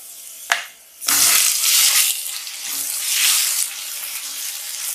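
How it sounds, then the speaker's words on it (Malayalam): Ground vindaloo paste made with vinegar and warm water hits a hot pan for beef vindaloo, giving a loud sudden sizzle and splatter after a small clink, then a steady frying hiss that swells and fades. "ഇതിലേക്ക് നമുക്ക് നമ്മുടെ അരപ്പ് ചേർക്കാം."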